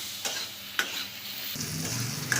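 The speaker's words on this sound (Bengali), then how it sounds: "এটাকে ভালো করে লাল লাল করে ভেজে নেব" Potatoes with a little turmeric frying in a pan, a soft steady sizzle with a few scraping knocks as they are stirred, close and fairly quiet with no talking.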